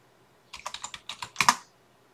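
Roughly ten crisp keystrokes tapped out in a quick burst on a computer keyboard while entering a password, close and clear against a quiet room, ending with a louder cluster of presses.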